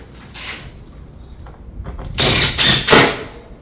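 Power tool driving fasteners through shake roofing at the fascia edge, a few short loud bursts late on, preceded by fainter mechanical whirs and handling noise.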